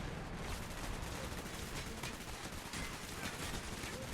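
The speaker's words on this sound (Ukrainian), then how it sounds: "Зараз стріляють." Dense, continuous gunfire crackles throughout in the video game Call of Duty: Black Ops, a steady barrage of shots blending into a rough roar with no pauses.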